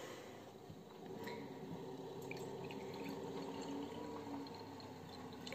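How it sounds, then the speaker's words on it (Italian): Water running from a tap into a glass jar, filling it halfway, a steady close splashing and trickling pour that continues throughout without any talk. "Lo riempiamo d'acqua per metà."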